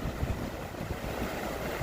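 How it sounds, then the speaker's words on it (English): Strong, blustery wind roars across the microphone outdoors, a continuous rumbling buffeting with no voices. "Whoa, it is windy out here."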